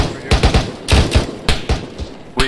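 Close, loud gunfire in a military video game: sharp shots in quick uneven bursts and pairs, about a dozen cracks over a couple of seconds.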